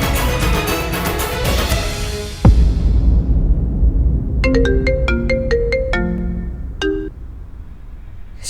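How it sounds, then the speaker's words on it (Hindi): A phone ringtone plays a short electronic melody of bright repeated tones, loud and clear over a background of music. "श्रेया, शुक्र है तेरा फोन आ गया।"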